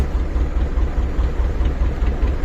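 A fishing boat's engine drones heavily as the boat runs through gentle waves at sea on a calm, low-wind day, a loud, steady low chugging with a slight rhythmic throb throughout and no voices.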